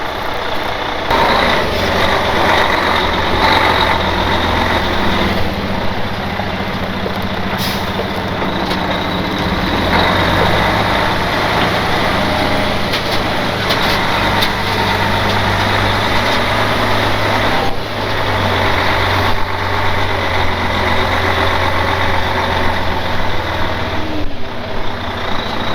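A tow truck idles loud and close with a steady heavy engine rumble while backing up, its reversing beeps faintly audible through the drone for the whole stretch.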